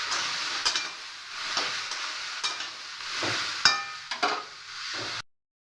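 Spices with turmeric are stirred in a frying pan, giving a soft sizzling hiss broken by several scraping strokes and light clinks of the utensil against the pan.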